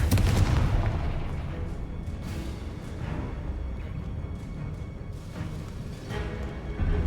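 A Confringo blasting spell fired in the Hogwarts Legacy video game, with rumbling booms and a burst at the start set in dense, moderately quiet game-action noise.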